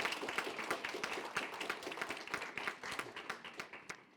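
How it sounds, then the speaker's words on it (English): An audience at an event about Ukraine applauds, a dense and steady wash of many hands clapping that fades slightly toward the end. "Let's give her a round of applause."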